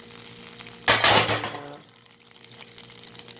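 Onion dropped into butter and oil flares into a loud burst of sizzling, then settles to a quieter steady fry with light stirring; no talking.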